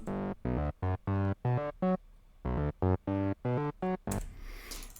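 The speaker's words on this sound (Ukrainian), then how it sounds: "я його залерив ще з серума ось такий пилкообразний звук" A buzzy, bright sawtooth synthesizer from Serum plays a rhythmic sequence of short staccato notes, loud and upfront, ending with a washy noise burst.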